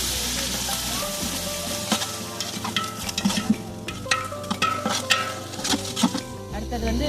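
Ginger garlic paste stirred in hot oil for a large batch of chicken biryani, with a steady sizzle running throughout. A spoon clinks and scrapes against the pot in irregular bursts, close and fairly loud, and nobody speaks.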